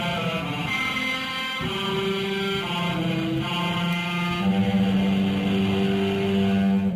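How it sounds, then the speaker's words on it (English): An electric-guitar-like tone built from a processed sample plays sustained notes over a dense, noisy backdrop, steady and fairly loud throughout. "And now an electric guitar we have."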